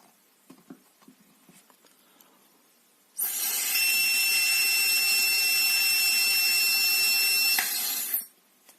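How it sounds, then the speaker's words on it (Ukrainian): A strong breath is blown into an AlcoFor-105 breathalyzer during analysis, making a loud, steady rushing hiss with a faint high tone that lasts about five seconds, then cuts off after some quiet clicks. "Подуємо тепер волкотестер нормально."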